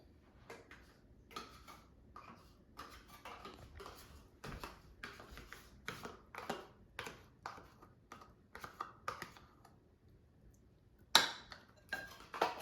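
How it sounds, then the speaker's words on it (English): A spoon scooping thick skyr yogurt into a bowl, giving soft, quiet clicks and light scrapes at an uneven pace with nothing else around. "So I'm going to take Skyr and put it in my bowl."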